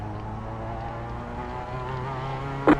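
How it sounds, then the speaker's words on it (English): Damaged Mazda MX5 engine in iRacing at Bathurst, with a steady droning engine note and harmonics that wavers and shifts pitch midway, ending in a short sharp knock. "We got big problems with that engine."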